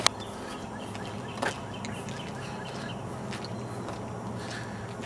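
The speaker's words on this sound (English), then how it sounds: "Even the birds are out and happy now." Scattered bird chirps rise over a steady outdoor hum, with a couple of brief rustles or knocks; no voices.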